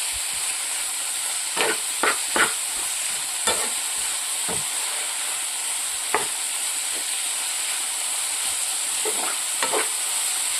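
Chopped banana flower sizzles in a frying pan with a steady hiss, broken by several sharp scraping clicks from stirring.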